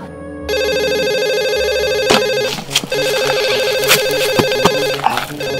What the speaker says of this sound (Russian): кажется, мобильник звонит.